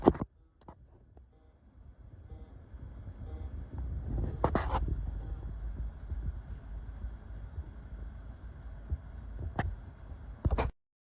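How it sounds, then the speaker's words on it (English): A failing WD hard drive that will not boot gives a faint low hum with a few sharp clicks and thumps from the moving heads, quiet and sparse, ending abruptly. "here I have a video where I have the drive connected to the subject computer, and I'm going to let you hear the sound."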